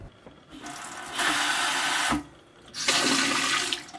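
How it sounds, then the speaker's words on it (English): Freshwater pump aboard a 41 ft sailboat runs in two loud, steady rushing bursts, each lasting about a second or more, with a short quiet gap between them and faint clicks before the first, and no voices. "But we're going to start with the most basic thing. Water pump."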